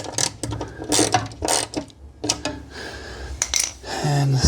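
Bolts being tightened with a ratchet on a plastic part of a Midway 1994 Revolution X arcade machine, fitted with spring washers: quick, uneven bursts of clicking mixed with clinks and knocks, fairly close, no talking.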